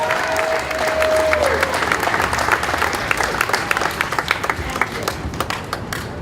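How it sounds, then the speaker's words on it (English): An audience at a Cape Verdean flag-raising ceremony breaks into sustained applause, dense clapping that holds steady and then thins into scattered individual claps, with a brief tone at the start and faint voices underneath. "Give them another round of applause and make it loud."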